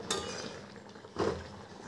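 A utensil clinks twice against a pan while mango and jaggery are stirred, two sharp close scrapes about a second apart with nobody speaking.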